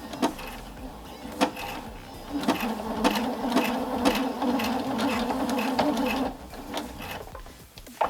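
A Husqvarna Viking Topaz 50 sewing machine stitches a button on, a close buzzing whir running in short steady bursts broken by small clicks, then stopping near the end.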